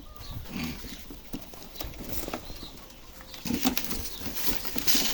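Bursts of wing flapping from birds taking off and fluttering nearby, with rustling and shuffling between the flurries.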